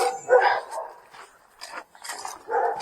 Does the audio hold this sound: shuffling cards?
no